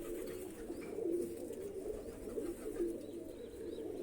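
Pigeons in a loft with young birds, cooing softly in repeated low murmurs against a steady background hum, fairly faint and continuous.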